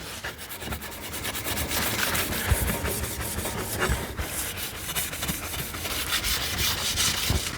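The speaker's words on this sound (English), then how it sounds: "take some paper towel here, get it a little wet, rub it around on the inside of the stove" A wet paper towel dabbed in ash scrubs the soot-covered glass of a Caminus M wood-burning hot tent stove, making a steady, close rubbing and rasping sound with no pauses.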